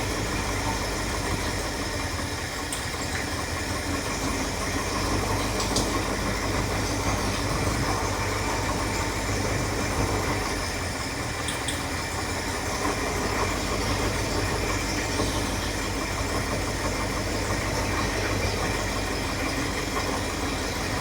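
A 1977 Ford F600 truck engine runs rough on only four cylinders, a steady loud, uneven rumbling idle that continues throughout.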